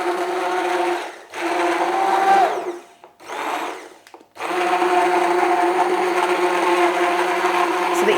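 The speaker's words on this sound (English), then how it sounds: "So when you've got the blender on, just start at the base and then just start to lift it out ever so slightly." An immersion blender whirs steadily through vegetable soup, a loud droning motor that cuts out twice briefly before running continuously again.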